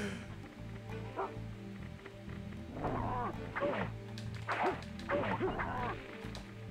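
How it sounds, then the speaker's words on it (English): Dogs barking, yipping and snarling as one attacks another in the stealth ninja game Tenchu: Stealth Assassins, in repeated bursts over a steady game soundscape, loudest toward the end. "He's attacking the other dog!"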